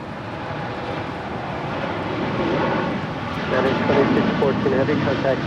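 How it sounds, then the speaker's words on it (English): United Boeing 787-10 Dreamliner rolling for takeoff at LAX toward Newark, its broad jet-engine roar steadily building in strength from a distance while people talk over it. "Now rolling is United 2614, headed out to Newark on a 787-10 Dreamliner."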